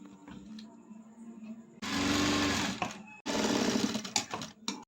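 Sewing machine stitching piping along the upper cloth of an elbow puff sleeve, two loud sustained bursts of whirring separated by a short pause, with softer handling noise before and after.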